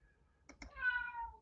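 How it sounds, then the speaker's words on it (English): A house cat gives a single drawn-out meow close by, preceded by a couple of soft clicks, in an otherwise quiet indoor room. "The cat makes its appearance."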